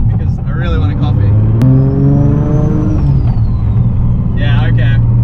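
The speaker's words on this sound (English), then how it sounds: "this has got a T51R mod done to it, hence the induction noise of the turbo" A 500-horsepower Nissan S15 with an RB26 engine and a T51R turbo drones loudly and steadily while a whistling turbo spool rises and fades, and a voice talks over it briefly.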